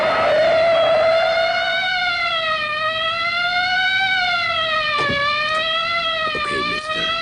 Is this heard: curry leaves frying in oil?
no